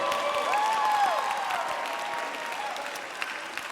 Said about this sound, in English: you can applaud, Dominican Republic